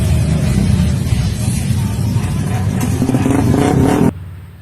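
Suzuki Satria FU motorcycle with a front-mounted exhaust pointing up toward the neck, revving loudly and roughly in a continuous rasping roar before cutting off abruptly near the end.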